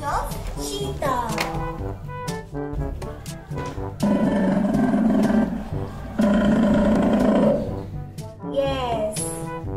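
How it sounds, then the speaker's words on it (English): Big-cat roaring and growling calls, presented as a cheetah, play loudly in repeated bursts with short gaps, while a dog listens indoors; low rumbling swells mark the strongest roars. "hear the sound of cheetah."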